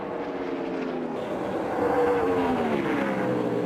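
NASCAR race cars come off turn 4 at California with a loud, rising engine whine whose pitch sweeps as the cars pass, over a dense roaring crowd-and-track wash.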